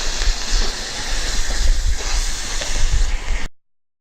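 Steam hisses and sputters steadily from an Instant Pot pressure release valve muffled under a towel, a loud continuous rushing that runs for several seconds and then cuts off abruptly.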